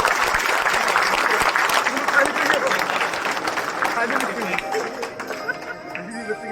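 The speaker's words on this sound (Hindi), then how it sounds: "जोरदार तालियों से एक बार इनका प्रोत्साहन" An audience gives a team a round of loud applause, a dense crackle of many clapping hands mixed with crowd chatter, fading and thinning toward the end.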